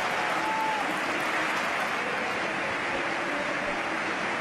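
A large stadium crowd at Mestalla applauds steadily, a broad even wash of clapping and cheering that holds without pause throughout.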